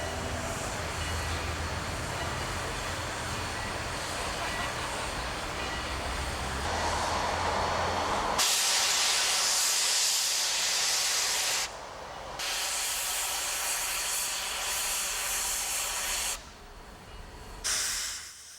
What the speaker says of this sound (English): the public enjoying the sights, the sounds, and the smells of steam locomotives.